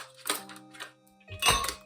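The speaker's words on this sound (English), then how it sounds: "First ingredient, we're gonna take 4 ice cubes." Four ice cubes are popped out of a tray for a smoothie, giving a few quick, close clicks and clacks, with a louder crack near the end.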